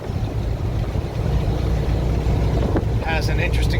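A 1970 VW Westfalia Bay Window bus cruising at highway speed, its loud, steady engine and road drone mixed with wind rumble throughout, plus a few brief higher squeaks near the end.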